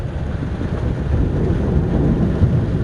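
Thunder rumbles under heavy rain while a car drives through a torrential downpour in Busan, a dense, steady low roar and wash that swells slightly toward the end.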